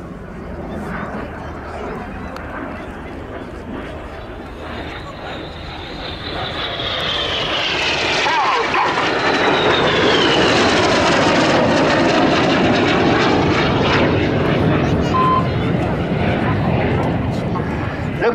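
Red Arrows aerobatic display jet pulling up at about 400 mph during an air show, a loud sustained roar that builds and sweeps in pitch as the aircraft passes close, with an announcer talking over it.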